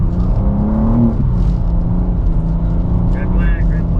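A 2023 BMW M2 with an 8-speed automatic drifts on a wet skidpad, its engine droning loud and close throughout, with voices talking over it.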